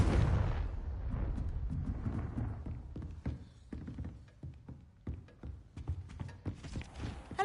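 The Confringo fire spell in Hogwarts Legacy: a booming blast at the start that decays into a rumbling tail, followed by scattered thuds and crackling debris impacts.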